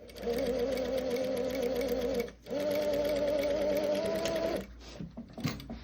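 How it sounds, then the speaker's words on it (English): A sewing machine stitches a seam on a leather sleeve, running in two steady bursts with a brief pause between, then stopping with a few mechanical clicks as it back tacks. "Back tacking at the end to hold it into place."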